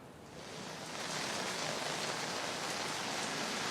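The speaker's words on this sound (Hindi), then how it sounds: "24 घंटे में मुंबई में लगातार बारिश हो रही है" Heavy, continuous rain falls in Mumbai, a dense, steady hiss of downpour that swells slightly at the start and then holds constant, with no voices.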